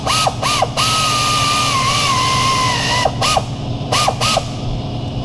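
A power tool runs down the bolts on the plastic thermostat housing of a 2011 Ford 4.0 V6. It gives a steady whine with a wavering pitch. Short bursts start and stop at the beginning and end, close and loud.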